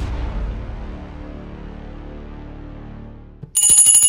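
A mobile phone ringtone starts abruptly near the end with bright, repeating electronic tones, following a fading low musical tail, loud and close with no talk.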